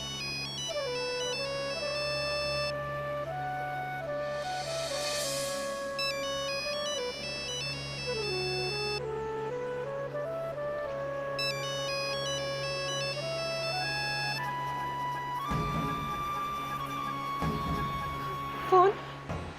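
A phone rings somewhere inside a house, playing a repeating electronic melodic ringtone at moderate volume with brief gaps, while voices speak and a few clattering sounds come near the end.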